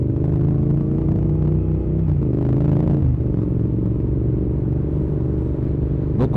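A Yamaha MT-07 motorcycle with twin front disc brakes, recorded on a test ride. Its engine rumbles loudly and steadily while the bike slows, and a brief clatter comes near the end.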